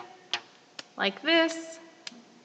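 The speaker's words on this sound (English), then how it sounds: "So I'm getting this rubber band to make a little bit of a sound like this" A rubber band flicked and plucked close by, a few sharp snaps and a short twangy buzz, with faint background noise.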